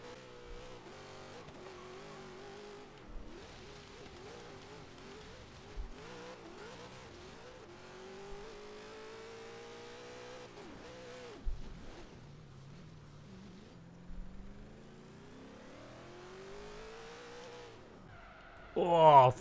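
Mini Cooper fitted with a 3,000 hp Mustang V8 in Forza Horizon 3 drives flat out, its engine whining and shifting through gears at very high speed, with a few sharp knocks and a loud burst at the end.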